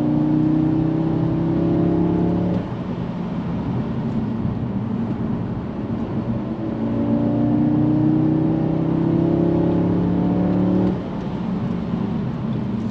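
A 2022 Audi S3 climbs a snowy Colorado mountain road with sharp curves at 9,000 feet. Its engine note rises steadily through each gear, then drops briefly at two upshifts, loud and close, with no talking.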